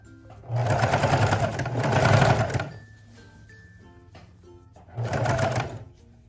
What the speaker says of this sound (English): we are gonna make sure to do our back stitch on this one